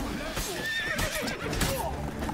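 A horse in the game The Witcher 3: Blood and Wine neighs loudly with a shrill, wavering whinny mixed with clip-clopping hooves and combat noise, while someone talks over the gameplay.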